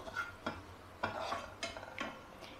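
Garlic cooks in a pan with gochujang sauce nearby while a utensil stirs it, giving several short scraping strokes at a steady, unhurried pace, close and moderately quiet over a faint background hiss.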